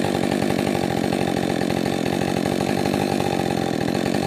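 A Husqvarna 562 chainsaw engine runs steadily at idle, a loud, close, continuous buzzing two-stroke drone with a fast even pulse and no change in pitch throughout.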